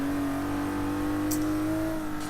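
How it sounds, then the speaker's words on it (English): A BMW M1 engine in Forza Motorsport 6 holds a steady, loud rev with a sustained tone and a slight rise in pitch, alone with no talk. "The engine just sounds great"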